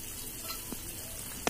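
Three pre-fried fish pieces go into a boiling Assamese-style leafy greens fish curry, giving a continuous low bubbling sizzle with a soft thump partway through and a sharp clack of utensil at the end; no one speaks.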